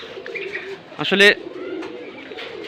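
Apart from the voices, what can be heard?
pigeons cooing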